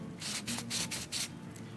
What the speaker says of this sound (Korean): 나머지 다른 부품들도 사포질을 해줍니다